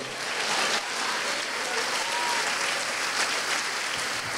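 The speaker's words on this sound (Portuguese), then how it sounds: "dá um aplauso para Jesus enquanto eu tomo a água" A church congregation applauds together in a loud, dense, continuous burst of clapping that fills the room for several seconds.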